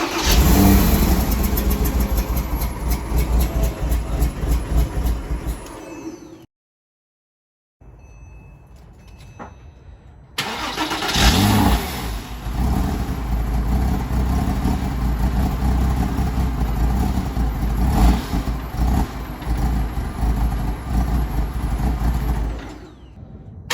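A Porsche Boxster 987 engine, after an air-oil separator replacement, cranks and catches after a short silence, then settles into a steady, close mid-pitched idle with a brief rev. It is loud and continuous, with no talking.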